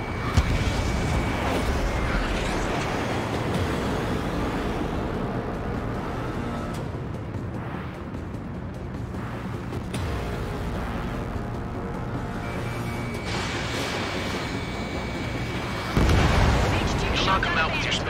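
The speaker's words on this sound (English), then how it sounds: "H2, missile launch." A missile launch in the Ace Combat 7 flight combat game, with a continuous roar of jet and weapon noise, a louder burst rising near the end, and radio voices talking over it.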